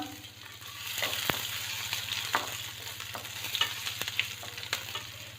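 Garlic sizzles steadily in hot oil in a pan while shahi paneer is being prepared, with soft crackles, a few spatters and a spoon clinking as it is stirred. Nobody speaks.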